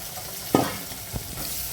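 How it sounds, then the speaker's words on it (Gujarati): Chopped onion tossed into hot oil for potato poha, a steady sizzle broken by a loud clatter as it lands and a couple of quieter stirring knocks, with no voices. "પછી ડુંગળી સમારેલી એડ કરીશું"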